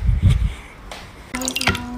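Water pours into a cup or glass at close range, starting with a few low splashes and drips, then a bright trickling fill that runs steadily to the end.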